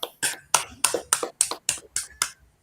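About eight sharp, evenly spaced claps ring out close by, at a coaching practice session, in a steady rhythm with clear gaps between them.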